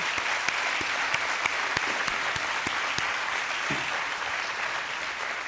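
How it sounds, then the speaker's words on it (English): Sustained audience applause at a university commencement ceremony for a graduating executive MBA class, a dense, steady wash of many hands clapping, with a few sharper individual claps standing out near the front. "Let's give them a round of applause, please."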